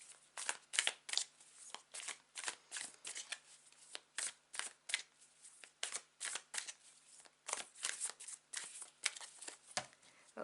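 A deck of tarot cards is shuffled by hand close to the microphone, producing repeated quick riffling bursts and soft papery slaps in an irregular rhythm over a quiet background, with no talk.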